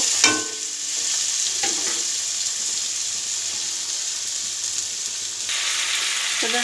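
Potatoes frying in a pan with a little oil, giving a continuous close sizzle, with a couple of brief scrapes or clatters near the start and at the end.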